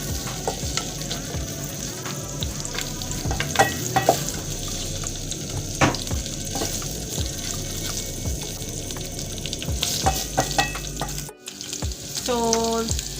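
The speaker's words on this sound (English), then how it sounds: "you can go ahead and add some oil to it and allow it to fry for some" Beef sizzles steadily in hot oil for a beef wet fry, a dense continuous crackle with occasional stirring scrapes and clinks, close and fairly loud throughout.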